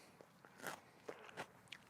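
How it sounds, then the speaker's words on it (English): Several crisp, quiet crunches from biting raw sugar snap peas fresh off the vine in a home garden, short separate bites spread over about two seconds. "I hope you picked up that crunch"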